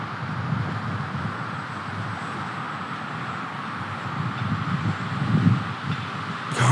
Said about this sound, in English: Carl waiting for that wind to die down just for a moment.